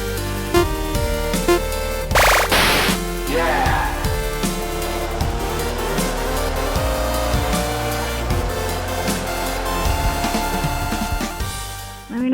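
A motorcycle ridden in first gear with a passenger on her first ride, its engine droning steadily and close with harmonic whine and low pulsing throughout, plus a brief rush of wind buffeting near the start.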